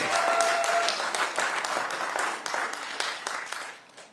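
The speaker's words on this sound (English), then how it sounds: "You can clap for that." An audience claps at a Ward 8 councilmember swearing-in ceremony, crisp individual claps forming a steady round that trails off toward the end.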